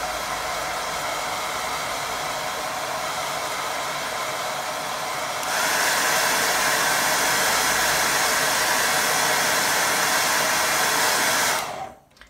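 A hair dryer blows steadily to dry a watercolour painting of a windmill, a loud continuous whoosh that steps up in strength partway through, holds, then cuts off near the end.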